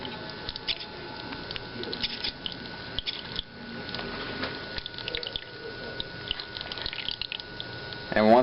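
A digital commode dispenses water into a bucket with a continuous patter of running water, like a tap splashing into a container, close and moderately loud with occasional small knocks.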